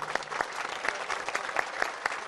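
An audience applauds at a welcome ceremony for wrestlers in Döşemealtı, a steady wash of clapping from a crowd filling the short stretch without speech.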